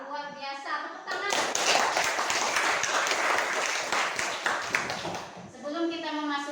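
Children in a primary school classroom clap their hands together in a loud, dense burst lasting several seconds, with a teacher's voice speaking just before and after.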